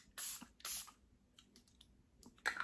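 Refreshing facial toner mist sprayed onto a bare face, two quick hissing spritzes close by, then a quiet pause and another burst of spray near the end.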